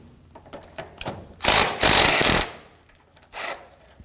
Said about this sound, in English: We can go ahead and remove these with a 15mm socket.